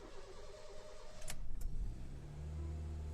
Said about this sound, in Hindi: अल्हम्दुलिल्लाह गाड़ी स्टार्ट हुई है